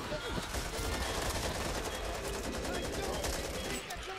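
Continuous rapid gunfire in a video game, dense and steady throughout under loud action noise, with a voice faintly mixed in.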